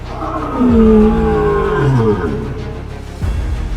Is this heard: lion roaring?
yes